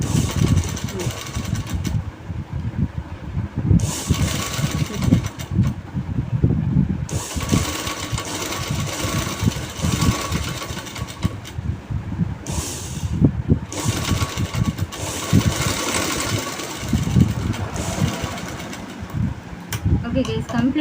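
An industrial sewing machine stitches a round neck on canvas in stop-start bursts of rapid mechanical whirring, with short pauses between runs, while someone talks over the work.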